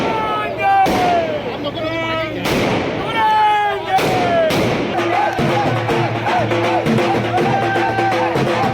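Firecrackers burst at a victory celebration outside a party's Gujarat state office in Ahmedabad: three loud, sharp cracks about a second and a half apart, followed by denser popping, with people talking and cheering throughout.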